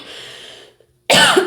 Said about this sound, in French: Pardon d'avoir toussé, je me suis étouffée, en fait, avec une poussière, je crois.